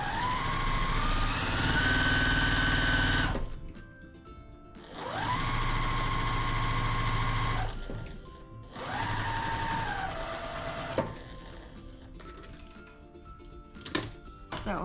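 A sewing machine stitches quilt pieces in three long, even whirring runs that speed up and slow down, with short pauses between them and some talk and handling noise near the end.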